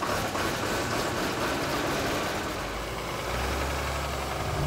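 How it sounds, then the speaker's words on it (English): A public works truck engine idles in subzero winter cold, a steady loud low rumble with a deeper throb creeping in toward the end, no voices. "After checking the oil, hazard lights, and prepping the engine for 2 below 0, Bob settles in for his typical day at the office"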